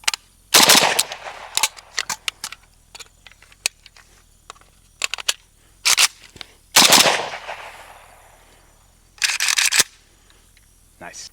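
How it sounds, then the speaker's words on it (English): A Century Arms Romanian RPK rifle fires unsuppressed outdoors in loud, sharp bursts: several rapid strings of shots, scattered single shots, and a longer burst with a ringing decay. Voices talk between the bursts. "just shoot it unsuppressed like we're about to do"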